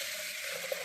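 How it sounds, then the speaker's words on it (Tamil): A short stream of water pours steadily into a pot of green gram lentils, a soft continuous splashing with one small bubbling plop. "பாசி பயிரில் தண்ணி ஊற்றி"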